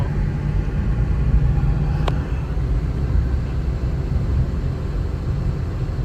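Steady low rumble of a car driving along a road near a flooded state park, a constant engine and road drone from inside the vehicle with no talking.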